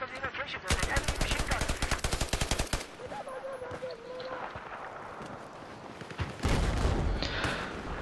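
Rapid bursts of automatic gunfire in a video game firefight, with a long dense volley up front and another burst near the end, loud, with someone talking in between.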